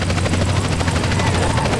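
A helicopter in the video game GTA San Andreas, a loud, steady rotor thumping in a fast regular rhythm that continues throughout without pause.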